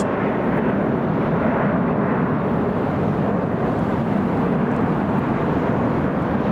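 A Qantas airliner at LAX produces a steady, broad jet roar that holds constant, heard from some distance outdoors.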